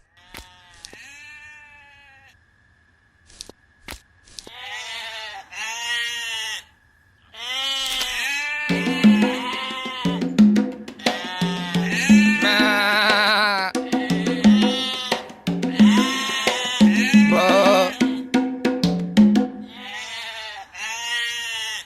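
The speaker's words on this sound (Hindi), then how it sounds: "जाकर देख तो बकरियां क्यों चिल्ला रही हैं।" Goats bleat repeatedly from nearby, a string of loud wavering calls that overlap and build into a noisy chorus, with some voices speaking in between.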